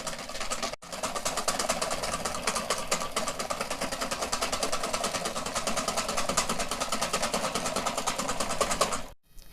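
Cream is whipped by hand with a whisk in a bowl, beaten steadily side to side. A fast, even, close-up rattling of strokes runs almost without a break, briefly pausing near the start and stopping at the end.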